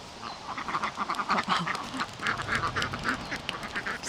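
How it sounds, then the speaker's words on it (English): Ducks quacking by a roadside temple near a cave, a close, fairly loud run of rapid nasal quacks in irregular bursts with no talking. "See the duck, so cute."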